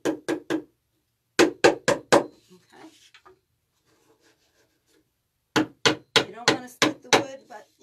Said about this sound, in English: A little bit of tapping doesn't hurt them.